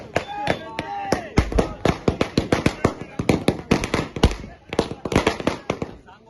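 Fireworks go off at an outdoor welcome ceremony for a retired soldier in India, with dense, rapid crackling bangs and sharp pops in irregular bursts, loud and close, and voices in the background.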